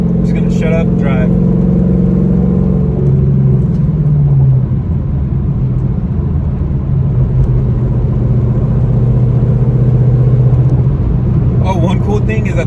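A 5th-generation Camaro with a swapped cam drives steadily, its engine rumbling loud and close with a strong low drone that shifts pitch as it pulls, while a voice talks briefly at the start and end.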